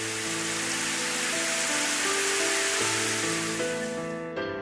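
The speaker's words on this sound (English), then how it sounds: "The sound of rain falling and the sensation of water hitting my face roused me." Steady rain falling in the video game Ame No Marginal, a dense hiss of water that runs continuously at moderate level, layered with sustained tonal music, and cuts off abruptly near the end.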